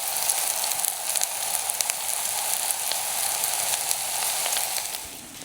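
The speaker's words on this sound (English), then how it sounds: "Some sizzle noises." Steady, crackling sizzle of mushrooms frying in a hot ceramic camping pan, continuous and close, with no voices, fading slightly at the very end.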